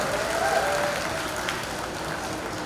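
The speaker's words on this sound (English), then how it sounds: "Big round of applause for all yourselves." Continuous applause from a small yoga class, a steady wash of clapping held at an even level throughout.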